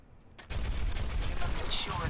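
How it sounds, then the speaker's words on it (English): Sustained weapon fire from D.Va in the Overwatch shooter game on the Hollywood map: after a quiet half-second, a steady stream of rapid shots kicks in and continues at an even, loud level to the end. "here I try shooting my way out again"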